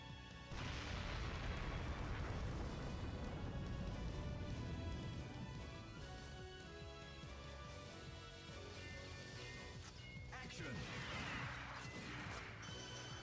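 A grenade goes off in the arcade shooter Time Crisis 3, its blast blending into a long, dense roar of crashing, booming battle noise that stays loud throughout with a fresh burst near the end.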